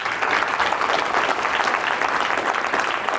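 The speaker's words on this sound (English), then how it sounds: "give a round of applause for Adam and Brent." A keynote audience gives the speakers a round of applause: dense, steady clapping from many hands, fairly loud and even throughout, with no speech over it.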